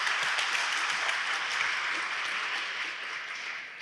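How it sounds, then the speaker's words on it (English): Audience applause for high school athletic award nominees at a 2024 awards ceremony: a steady, dense wash of clapping from a large crowd that holds evenly throughout and eases slightly at the end. "Let's give a round of applause for those nominees."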